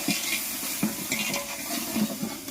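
Close stirring of masala and scraping in a hot pan, with soft sizzling underneath and a few light metallic knocks of a spoon against the pan.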